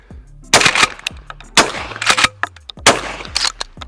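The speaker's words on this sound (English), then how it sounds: "Let's go with the FieldMaster. Definitely a pump gun, can feel that recoil, but it's straight back." Remington 870 FieldMaster 12 gauge pump shotgun firing 1 1/8 ounce loads outdoors: three loud, close blasts, each followed by the metallic clack of the pump action being cycled, with no voices.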